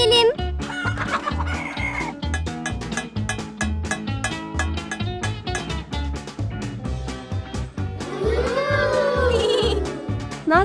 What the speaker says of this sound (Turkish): Tavukları besle.